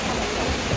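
A waterfall in Seoul's Seodaemun district roars as a steady, broadband rush of falling water, close and continuous through a brief moment.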